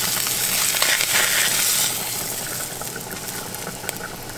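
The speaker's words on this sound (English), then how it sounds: "Cooking these noodles here" Noodles cooking in a pan beside a beach catch-and-cook session, a loud steady sizzle and crackle that is strongest at first, then settles into a softer, continuous fry.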